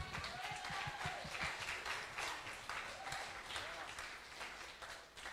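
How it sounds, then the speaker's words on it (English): A Sunday service congregation applauds its support staff, a moderate wash of clapping at a distance that thins out toward the end, with a voice talking over parts of it. "Let's give them a round of applause."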